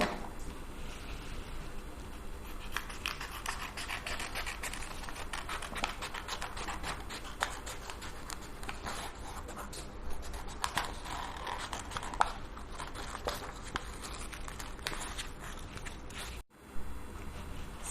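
Scissors snip through yellow craft paper while a butterfly body is cut out, a string of quick crisp cuts and rustling paper close by, fairly quiet and continuous with a short pause near the end.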